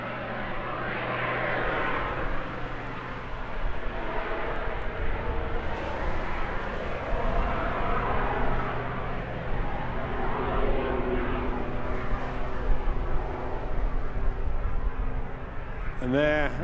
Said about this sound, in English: And there, a classic hover maneuver, that distinctive sound from the two jet engines.